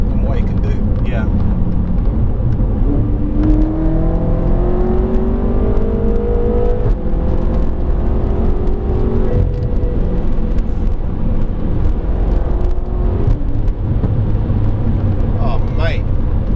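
BMW F10 M5 engine heard from inside the car while driving, a loud continuous low rumble with rising and falling whirring tones as revs change, and people talking over it.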